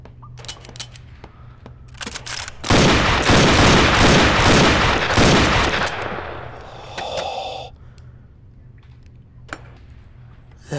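Gunfire from a gun in the VR game Gun Club VR: a few scattered shots, then a loud, rapid burst of fire lasting about three seconds, followed by quieter mechanical clicks and clatter.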